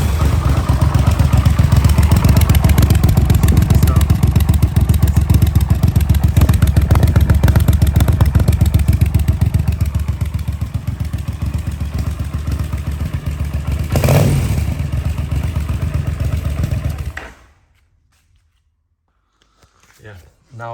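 A Yamaha TDM 850 motorcycle runs with a decibel killer fitted in its twin exhaust. It makes a steady, loud, close, throbbing idle that lasts about seventeen seconds, then cuts to near silence.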